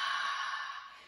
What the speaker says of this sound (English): exhale, like the second part of the word aloha